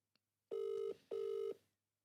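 A telephone rings twice for an unanswered call to a prize winner, with two evenly spaced electronic trills, each about half a second long, heard close and clear with no one speaking.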